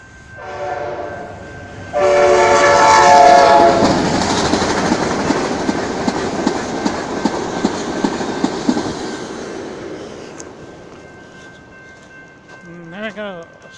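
An Amtrak Talgo passenger train heading northbound on the Seattle subdivision sounds its horn loudly, then rushes past with rhythmic clickety-clack from the wheels before fading away, with a brief voice near the end.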